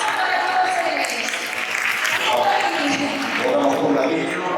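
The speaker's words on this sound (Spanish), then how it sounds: "Aplausos para todos ellos" Applause for a sports association's athletes at a 2023 sports gala: a dense, continuous wash of clapping from a large audience that holds steady throughout, with crowd murmur mixed in.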